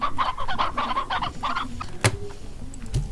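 Hens clucking in Slime Rancher, a rapid run of close, bright clucks in short bursts, followed by a couple of sharp knocks and quieter scattered clucks.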